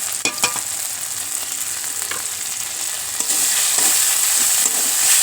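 Ginger-garlic paste and turmeric sizzle and fry in a pan while a utensil scrapes and stirs, with steady close frying hiss that grows louder halfway through and occasional clinks of the spoon.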